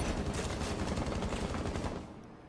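Rapid automatic gunfire in the video game Rainbow Six Siege, a loud, continuous stream of closely spaced shots lasting about two seconds before fading.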